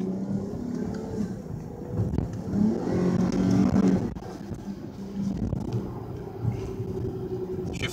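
A 2019 Dodge Charger GT with the Pentastar 3.6 V6 revs while driving, its engine note rising and swelling mid-clip before settling back to a steady cruising hum with road noise.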